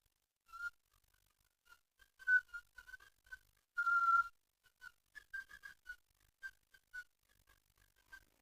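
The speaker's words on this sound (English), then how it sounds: "You're not very good at whistling, are you?" A person whistles in short, uneven bursts, with one longer held note partway through; the whistling is fairly faint and sounds hesitant, with pauses between notes.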